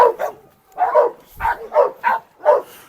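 An Anatolian shepherd dog barks close and loud, about six full, deep woofs spaced roughly half a second apart with short pauses between.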